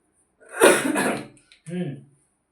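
A person coughs and clears their throat, one rough burst followed by a shorter throaty hack, close and otherwise quiet.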